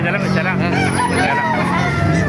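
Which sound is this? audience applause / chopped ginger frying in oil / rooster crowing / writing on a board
rooster crowing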